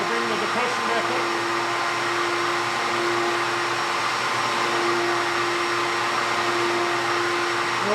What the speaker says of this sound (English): Now as I open up the valve, flow gets easier through the machine.